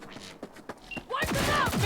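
Turrets open fire in the Cyberpunk 2077 power plant assault. After a few scattered shots, a dense, loud burst of rapid gunfire comes in, with a voice shouting over the barrage.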